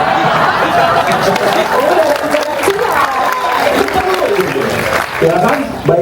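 Audience applause at a festival talk session, a dense, steady wash of clapping mixed with crowd chatter and a few chuckles, lasting throughout at close range.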